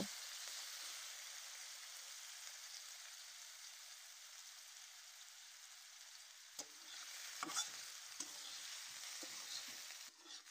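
Onion and potato fry in oil in a wok with a little salt. A steady, close sizzle continues throughout, with a few brief stirring scrapes near the end.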